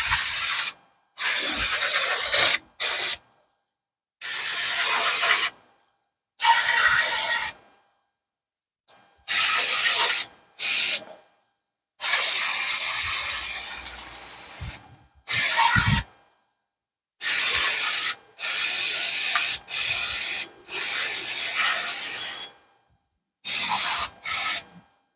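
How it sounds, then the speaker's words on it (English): Brake cleaner sprayed onto rear parking brake parts of a 2009 Pontiac Vibe AWD, a series of loud close hissing aerosol bursts of varying length separated by silent gaps. "then use some brake cleaner afterwards"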